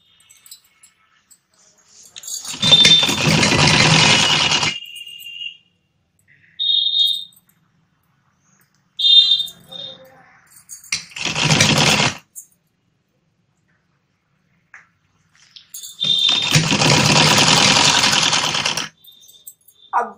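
A sewing machine runs long basting stitches on a blouse piece in bursts of steady whirring, three long runs and a few short ones, loud and close, separated by silent pauses, with no talking.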